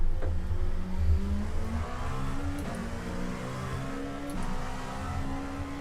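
Race cars lap Daytona in a racing video game, a steady mid-pitched engine whine rising and falling through gear shifts, continuous and moderately loud with faint passing cars.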